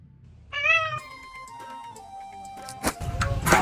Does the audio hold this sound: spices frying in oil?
no